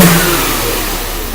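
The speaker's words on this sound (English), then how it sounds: "And when he snaps the throttle, it's supposed to go snap to 0 and then go back to 19." A car engine snapped hard on the throttle during an engine vacuum test, giving one loud, close, sustained rev that stays high and roars without any talk.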